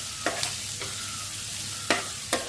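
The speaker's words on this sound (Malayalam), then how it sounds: "നമുക്കിത് നേരെ ഇളക്കി കൊടുക്കാം" Green chilies, salt and crushed black pepper being stirred in a hot frying pan for a home-style chicken stew, with a steady sizzle punctuated by four sharp scrapes of a spoon against the pan and no talking.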